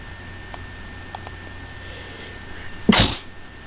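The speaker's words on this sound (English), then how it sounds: "I sneezed." A single loud, sharp sneeze bursts out close by near the end, after a few faint keyboard clicks in an otherwise quiet room.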